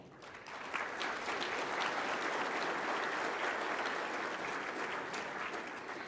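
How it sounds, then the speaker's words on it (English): Sustained applause from an audience at an annual general meeting awards session, honouring award-winning students; steady dense clapping fills the room at an even level throughout, with a faint murmur of crowd beneath. "giving one final round of applause to all the deserving students"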